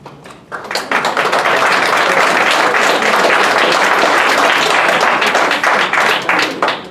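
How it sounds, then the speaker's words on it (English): Loud, sustained audience applause at a congressional district candidate forum, starting abruptly and holding as a thick, close wall of many hands clapping before easing slightly at the end. "I know and I appreciate everybody's applause."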